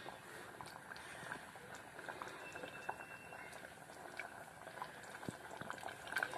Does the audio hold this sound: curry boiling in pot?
yes